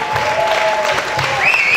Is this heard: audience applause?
yes